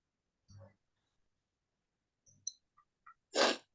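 A person with a cold sneezes once, sharply and close by, after a few soft sniffs and small clicks in an otherwise quiet room.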